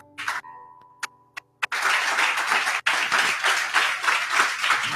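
A church congregation breaks into dense, sustained applause after a few scattered early claps, filling the room with loud, continuous clapping.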